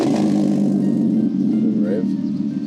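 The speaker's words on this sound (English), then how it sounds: "those are valves opening" A steady, loud, low idle rumble comes from an Audi TT engine with its exhaust valves opening, close and continuous, with a voice talking over it.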